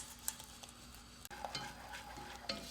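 A whisk works through cream cheese melting in a pan for a keto breakfast pizza, giving soft, intermittent scraping and stirring with a faint sizzle, close and quiet, with no talking.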